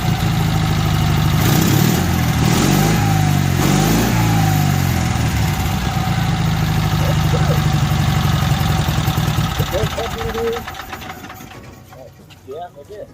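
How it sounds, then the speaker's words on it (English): A small two-cylinder OMC motor runs steadily and loudly up close with a rough, throbbing drone, then fades and trails off near the end. "That thing sounds wicked for a little 2-cylinder motor"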